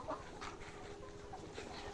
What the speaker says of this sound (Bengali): এখানে প্রায় 1000-এর উপরে লেয়ার মুরগি রয়েছে।